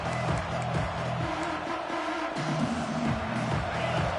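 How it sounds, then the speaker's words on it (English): A stadium crowd roars at a football game while the home defense is on the field, a dense and sustained wall of noise that fills the whole stretch. "Listen to this crowd just shaking the girders of this place, trying to help their defense."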